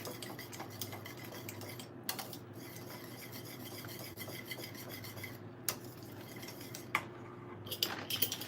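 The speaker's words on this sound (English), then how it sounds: "You want to stir." A spoon scraping and stirring thick Jamaican-style peanut porridge in a pot, a continuous soft grinding rasp with occasional light clinks of the utensil against the metal, steady and close, heard alone.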